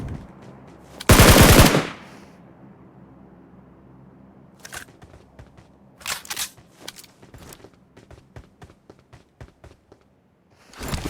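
Game gunfire from a SCAR-L assault rifle: one loud, dense burst of spray early on, followed by scattered single shots and short bursts, some near and others more distant, with quiet gaps between them.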